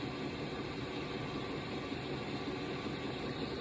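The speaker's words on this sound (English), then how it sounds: "testing the new installation of the diesel heater." A newly installed diesel heater runs steadily inside a shuttle bus, a constant low broadband whir and hum with no breaks, moderately loud and close.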